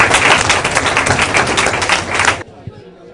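An audience at a festival opening ceremony at an embassy applauds Secretary of State John Kerry: dense, loud clapping that stops abruptly after about two and a half seconds, leaving a quiet room with a few faint stray sounds.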